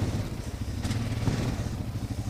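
A Honda motorcycle strains up a sandy bank, its engine droning in a loud, continuous low roar up close with slight rises in revs and no talk.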